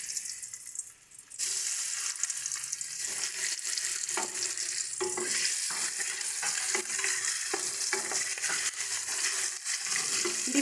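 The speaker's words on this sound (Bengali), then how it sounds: "দেখো, এদিকে তেলটা গরম হয়ে গেছে। এবার আমরা ডিমগুলো দিয়ে ভেজে নিচ্ছি।" Duck eggs fry in hot oil in a pan, giving a steady, dense sizzle that holds nearly throughout after a brief quieter start, with faint clicks and clatter of the pan or utensil mixed in. No one speaks.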